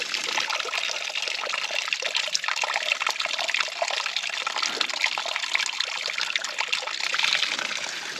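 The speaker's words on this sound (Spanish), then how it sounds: "Y aquí, que es la zona de manantiales, rellenamos agua" Spring water trickles steadily at a mountain spring along a trail run near La Huerta in Oaxaca, a continuous close bright babbling flow with no voices.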